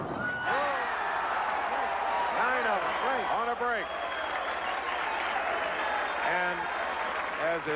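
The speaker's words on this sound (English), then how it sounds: "Mark Roth applauded the 9th strike." Spectators at the 1978 PBA Long Island Open bowling tournament applaud a strike with sustained clapping, while voices carry over the crowd noise.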